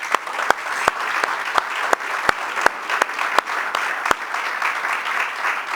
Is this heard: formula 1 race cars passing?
no